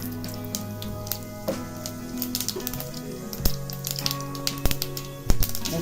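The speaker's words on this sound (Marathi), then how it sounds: "तेल टाकायचं शिजवणी मोहरी टाकायची" Mustard seeds crackle and pop in hot oil, scattered sharp bursts over a low steady sizzle, growing busier toward the end.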